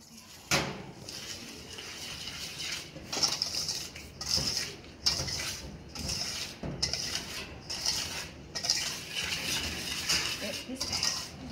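Madeleine batter being mixed in a bowl during a baking class, repeated clinks and scrapes of a utensil against the bowl in an uneven rhythm, close and moderately loud.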